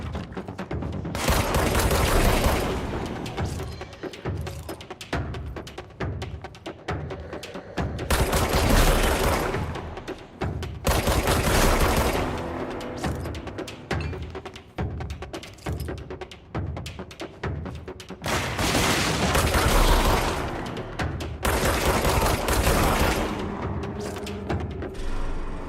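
Gunfire from the video game Control erupts in repeated heavy bursts, loud rapid volleys separated by short pauses, mixed with mechanical clicks and booms and no speech.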